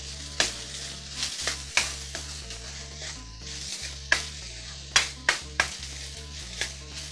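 Two grated garlic cloves fry in a pan with a steady close sizzle, while a spoon stirs and scrapes the bottom in repeated sharp taps.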